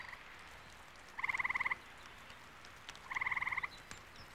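Frogs emerging after a Canadian winter thaw give two separate bursts of rapid, pulsed croaking, each about half a second long and fairly close, over a quiet outdoor background hiss.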